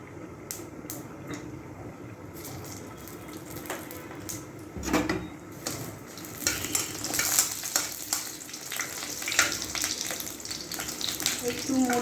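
Puffed rice with dried red chilli and bay leaf frying in oil, starting as a quiet sizzle with a clatter, then turning into busier stirring and scraping in the pan with a mild background murmur.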